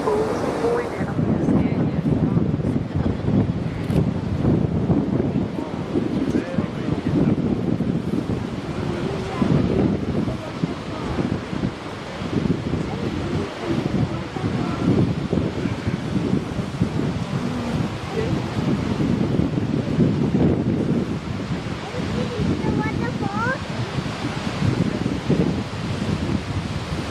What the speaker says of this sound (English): We are directly under the waterfall.